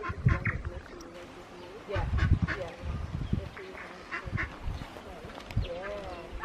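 Birds calling at the Zealandia wildlife sanctuary in New Zealand, with a string of honking, quacking calls near and fairly loud, mixed with people talking close by.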